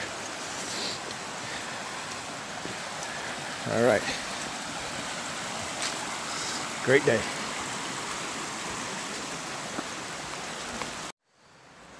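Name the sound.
flowing water in a creek bed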